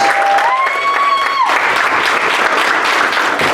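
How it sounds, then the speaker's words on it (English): Audience applause at the 11th annual Passing the Torch student leadership ceremony, loud dense clapping that fills the room, with a sustained tone fading out in the opening moment. "Give yourselves a round of applause."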